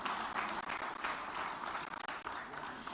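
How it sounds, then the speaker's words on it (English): Audience applause at the PLASTINDIA2023 exhibition event in Hyderabad: a steady, dense wash of many hands clapping that carries on without a break across the whole stretch, fairly soft and even in level. "Again, once a big round of applause for him,"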